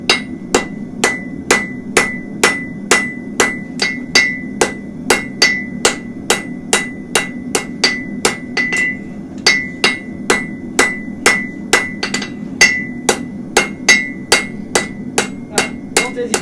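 A hammer forging hot horseshoe metal on an anvil, sharp ringing blows struck in a steady, evenly spaced rhythm, loud and close, with a short pause midway and no speech.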